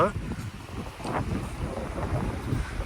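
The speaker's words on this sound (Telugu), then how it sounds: "ఒకసారి గాలి వినండి ఎంత గాలి వస్తుందో" Strong wind buffets the microphone in a continuous roar at a sunset viewpoint, with a person talking faintly beneath the gusts.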